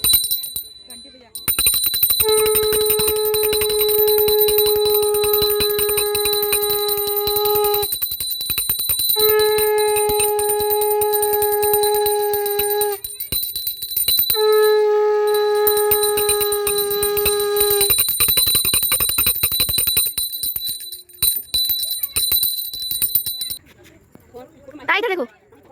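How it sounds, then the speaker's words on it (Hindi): During a Karva Chauth ritual, a bell rings close and loud in three long, sustained bursts with brief pauses between them, and people talk faintly throughout and after the ringing. "घंटी बजा।"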